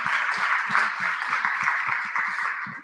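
A conference audience applauds with a faint, continuous patter of many hands clapping at once. The sound is steady and distant throughout, with no speech.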